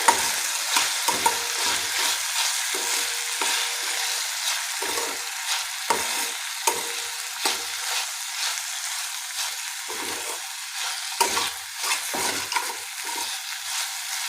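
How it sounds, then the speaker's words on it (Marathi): Mixed vegetables with finely chopped coriander are stirred in a hot pan. Repeated scraping strokes of the spoon pass over a soft sizzle, loud and close, with no voices. "बारीक चिरलेली कोथिंबीर टाकूया आणि याला मिक्स करून घेऊया"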